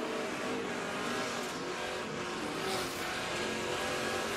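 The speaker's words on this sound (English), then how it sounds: "Chavis on the bottom is trying to get inside of the 0 truck of Forrester" NASCAR Camping World Truck Series trucks racing on the Eldora Speedway dirt oval during last chance qualifying, a steady dense roar of engines with rising and falling revs as trucks pass, loud and continuous with no talk.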